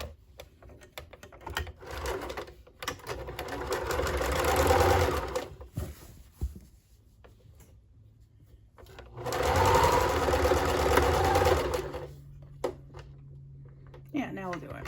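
A home sewing machine runs a zigzag stitch across a pillow case in two sustained bursts of steady, rapid mechanical chatter, each lasting several seconds and separated by a quieter pause, heard close up.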